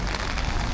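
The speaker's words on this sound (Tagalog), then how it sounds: "Bukod sa malamig umuulan." Steady rain falls in cold weather, a dense close wash of patter with no pauses and no voices.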